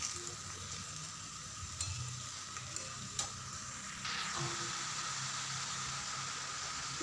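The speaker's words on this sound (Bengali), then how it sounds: "কিছুক্ষণ নাড়াচাড়া করতে হবে শাকটা দেওয়ার পরে।" Lafa greens being stirred and fried in a pan sizzle continuously at close range, with soft scraping of a spatula and a few light clinks, and the frying grows slightly louder partway through.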